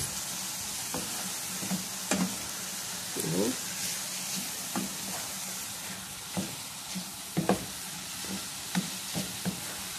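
Garlic and tomato sauce sizzle in a hot pan while a spoon stirs and scrapes against it at irregular intervals, the frying hiss holding steady and close beneath the sharp clinks.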